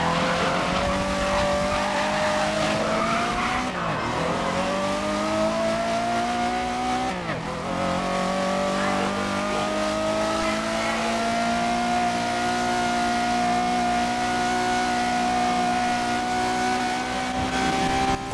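A racing car engine in the video game GRID (2019) roars continuously, its pitch climbing through gear shifts with brief dips, steady and loud throughout without talk.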